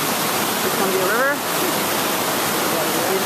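Multnomah Falls pouring over its top: a steady, loud broadband roar of falling water throughout, with a brief voice speaking partway through.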